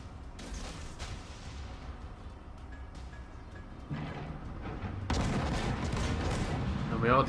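Warship guns fire in the naval game World of Warships, dull rumbling booms that swell into a heavier, louder salvo near the end, under a steady background of game noise.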